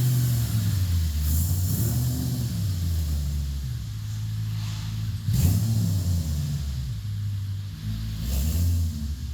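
Audi RS4 driving on the road, heard from inside as a steady low engine drone that rises and falls with revs, with a few bumps along the way.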